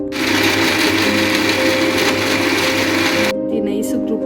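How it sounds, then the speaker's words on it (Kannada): A kitchen mixie grinds masala for chicken sambar with a loud, steady whirring motor whine that cuts off abruptly near the end, leaving brief quieter rattles. "ಇದನ್ನೆಲ್ಲ ಮಿಕ್ಸಿ ಒಳಗೆ ಹಾಕೊಂಡು"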